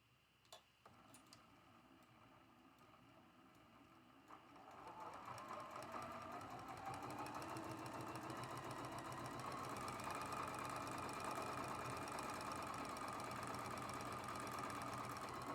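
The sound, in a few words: sewing machine sewing a quarter inch seam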